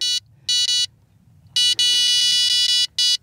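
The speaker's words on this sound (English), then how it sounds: "That allows us to hear an alarm if a carp takes the bait and comes towards us." Carp fishing bite alarm set up with a drop back weight, giving loud, close electronic beeps, first in a few short separate bursts and then in a rapid run of beeps.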